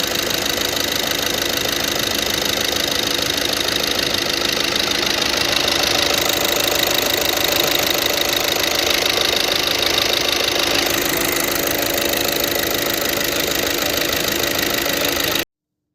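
A car engine idles just after a fuel injector replacement, with a steady, close, even mechanical hum and faint ticking. The note shifts slightly partway through.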